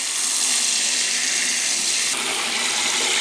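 Water gushes from a tap into a sink in a household kitchen, a loud, steady rushing stream that shifts slightly in tone partway through, with no talking.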